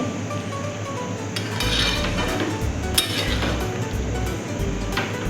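Soybean rice and pav bhaji masala are stirred in a pot, with a spoon scraping and clinking against the metal in an irregular rhythm over a steady background hum.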